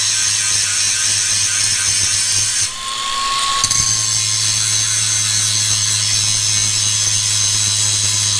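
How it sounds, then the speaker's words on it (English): Power tool grinding a wrench thinner, a loud continuous close whine with a steady hum underneath, briefly dropping off midway before resuming. "see if I can skinny down a wrench and get it in there"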